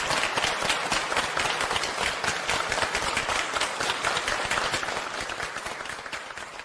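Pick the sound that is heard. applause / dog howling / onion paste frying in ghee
applause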